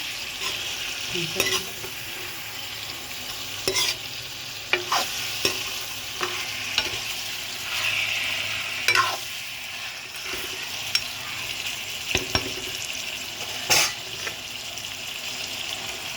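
Duck meat with a spice mix sizzles steadily in a pan, village style, with repeated scraping and clacking of a stirring utensil against the metal at irregular intervals and no talk.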